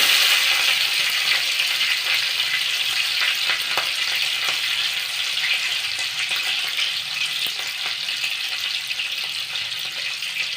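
Green chilies fry in hot oil with mustard seeds and cumin, a dense, continuous crackling sizzle with scattered sharp pops, close and steady throughout.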